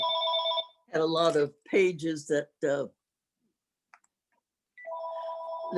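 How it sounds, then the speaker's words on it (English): A telephone rings indoors in a repeated electronic tone, with one ring before and one after a short burst of speech from a person talking nearby. "I'm sorry about the phone."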